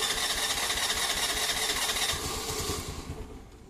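A Honda Activa scooter, its engine still cold and wet after an underbody wash, starts up and runs with a rough, buzzing idle close by, then fades toward the end.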